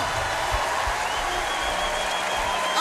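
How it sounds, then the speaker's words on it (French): Concert crowd at the Accor Arena applauding during a band's 25th-anniversary show, a broad, steady roar of clapping and crowd noise from a large audience, heard at a distance and without pause. "On vous demande d'applaudir notre ami Gauvin, s'il vous plaît."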